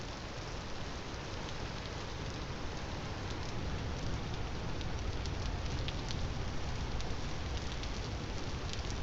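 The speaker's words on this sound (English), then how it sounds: "And of course it's raining again." Steady, dense rainfall in the Vintage Story world, a continuous close hiss of drops hitting surfaces that runs unbroken and fairly loud throughout with no voices.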